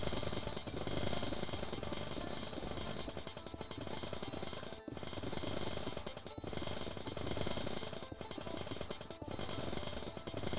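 Jackhammer mining in a video game: a steady, dense, loud rattling hammer that runs continuously with only brief dips, alone without talk.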